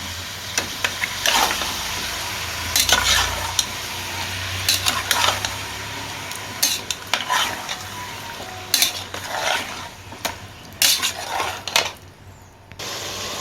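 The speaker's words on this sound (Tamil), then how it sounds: "இப்போ இந்த குக்கரில் கறி சேர்த்துடலாம் இந்த எண்ணெயிலே நல்லா வதக்கி விட்டுருவோம்" Beef pieces sauté in hot oil inside a pressure cooker, giving a steady close sizzle broken by frequent scraping and stirring clatter of a utensil against the metal pot.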